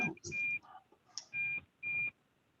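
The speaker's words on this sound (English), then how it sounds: "Somebody's beeping." Electronic beeps repeat in short, sustained tones, two or three clear pulses, with brief bits of voices in between.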